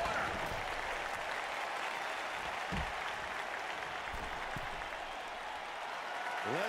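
A wrestling arena crowd cheers and applauds in a sustained, dense roar that fills the whole stretch, with a few brief louder swells rising out of the continuous noise.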